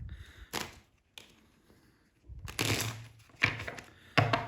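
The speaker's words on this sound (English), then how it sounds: "quickly just give them a quick riffle shuffle here" A riffle shuffle of playing cards before a card trick: several short, crisp fluttering bursts of cards riffling together, close and moderately loud, separated by brief quiet gaps.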